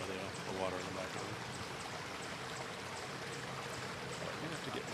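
River water flows beside a trail as a steady broadband rush, continuous and fairly close, with a voice speaking faintly over it.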